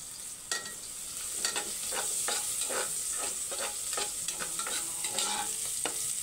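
Food for chicken tinola sizzles and browns in a hot pot while a utensil repeatedly stirs and scrapes, with irregular clanks over a constant hiss.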